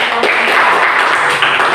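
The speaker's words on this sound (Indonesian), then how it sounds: "Kita kasih tepuk tangan" Classroom applause for a student discussion group during a teacher-training lesson: a steady, dense patter of many hands clapping at close range, continuous and fairly loud throughout.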